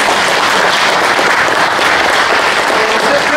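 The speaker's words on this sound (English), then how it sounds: "Let's give them a round of applause." Loud, sustained applause from the audience at a county touchdown club meeting, a thick, even roar of many hands clapping close by without a break.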